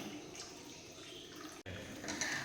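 Hot water being poured into a simmering crab curry gravy, a steady liquid pour and splash running without a break, with one short dropout near the end and a brighter splash just after.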